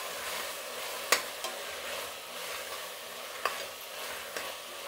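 Tomatoes frying in a pan with chopped fenugreek leaves, giving a steady soft sizzle with a few sharp stirring clinks of a utensil against the pan.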